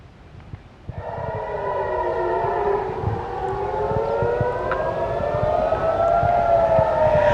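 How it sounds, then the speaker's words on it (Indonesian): An air raid siren wails in Jerusalem during an attack alert, starting after a brief quiet moment and then holding one long, loud, rising and gently wavering tone with overlapping harmonics to the end. "Sirene terdengar meraung"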